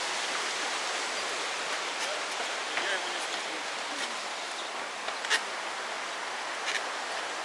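Steady broadband rush of a waterfall in Sapadere Canyon, Alanya, Turkey, continuous and fairly close, with a few faint clicks and footsteps-like taps on wooden walkways scattered through it.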